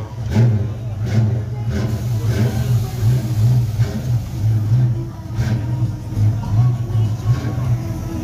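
A classic Fastback car engine revs at the start of a road trip in Aquitaine, a loud, deep, steady rumble with rhythmic pulses, close and continuous, with people talking nearby.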